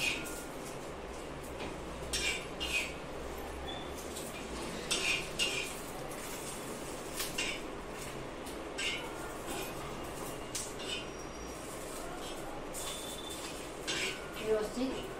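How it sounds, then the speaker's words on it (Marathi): Green chilies roasting in a pan for peanut chutney, stirred with a utensil that scrapes and clinks against the metal steadily, faint sizzle underneath, a voice talking quietly now and then. "आता आपल्याला ही मिरची भाजून घ्यायची आहे"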